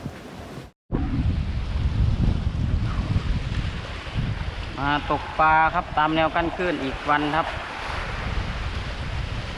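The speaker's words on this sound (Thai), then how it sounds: "วันนี้ ลมแรงอีกแล้ว" Strong seaside wind buffets the microphone at a breakwater on the coast, a continuous rushing roar with surf and a passing fishing boat beneath, while someone talks over it.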